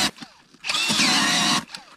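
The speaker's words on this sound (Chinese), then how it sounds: "这种天气还得是电钻靠谱。" An electric drill bores through thick river ice for ice fishing, a loud, close whine that surges for about a second between quieter scrapes and handling noises.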